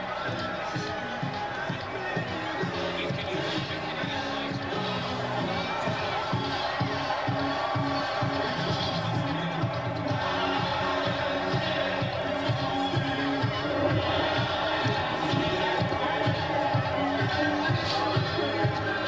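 Large stadium crowd cheering at a 1999 CFL football game, Edmonton Eskimos at Calgary Stampeders, a broad continuous roar mixed with music and chanting, with commentators talking over it.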